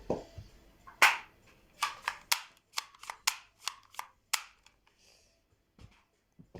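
Gunfire in a video game, with about a dozen sharp single shots fired in an uneven rhythm, close and punchy, with short quiet gaps between them.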